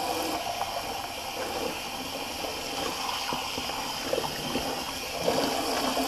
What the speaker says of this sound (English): I got the water on